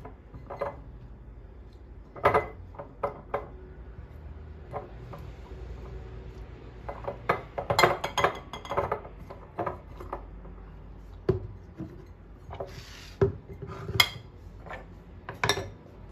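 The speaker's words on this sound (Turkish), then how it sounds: "boşluk kalan kısımlara da domates dilimleyerek kavanozları ağzına kadar dolduruyorum" Sliced tomatoes and garlic being packed into glass jars, with intermittent clinks, taps and rubbing of glass and utensils at close range over a quiet background.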